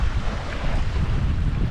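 Ocean surf rolls onto a beach in a steady, loud wash, with heavy wind buffeting the microphone the whole time and no voices.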